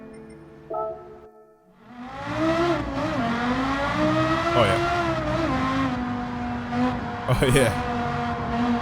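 Porsche Carrera GT with a racing exhaust in Gran Turismo 7, rising and falling revs with strong harmonic engine tones and a pop, after a quiet idle opening, while a man exclaims briefly.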